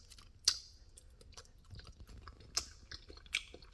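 Someone chews a crispy oven-roasted lime pepper potato close to the mic, with a few distinct crunchy bites and soft mouth sounds in between, in an otherwise quiet room.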